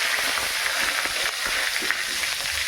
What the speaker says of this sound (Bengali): এখানটায় জিরে ফোড়ন দিলাম